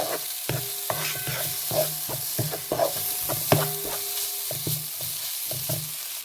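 Grated coconut and turmeric are stirred and fried in a pan for a cabbage stir-fry. A spatula scrapes in repeated rhythmic strokes over a steady close sizzle, with no talking.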